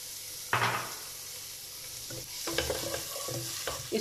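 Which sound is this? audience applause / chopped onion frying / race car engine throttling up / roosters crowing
chopped onion frying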